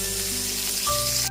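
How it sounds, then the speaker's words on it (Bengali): Green beans fry in hot oil in a pan over a low-to-medium gas flame, giving a loud, even sizzle close by that cuts off abruptly at the end. "গ্যাসের ফ্লেমটা লো টু মিডিয়ামে রেখে শিমগুলো উল্টে পাল্টে ভেজে নিয়েছি"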